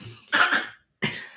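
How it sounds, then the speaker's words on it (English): Two harsh coughs, close and loud, with a short silent pause between them and no talking. "it makes me cough even more."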